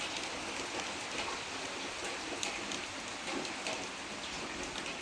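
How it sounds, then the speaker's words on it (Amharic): Light rain falls outdoors, a faint even patter of drops on surfaces that stays constant and soft throughout, with no voices. "እየተንጠባጠበ ነው ገና ዝናቡ።"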